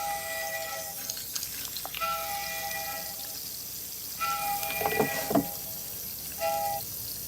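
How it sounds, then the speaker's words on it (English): Cold water runs from a salon sink tap while hair is rinsed, a soft intermittent splashing and trickling with a few brief louder gushes, heard fairly close and alone. "we're just rinsing her with cold water"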